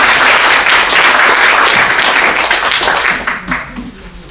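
Applause from an audience at a company alumni association's 29th anniversary general meeting and year-end party, honoring sponsors: dense, steady clapping from many hands that thins and fades out over the last second.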